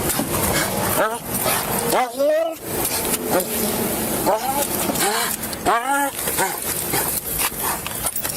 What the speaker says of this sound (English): I'm going to utilize my canine. He's going to walk around the car.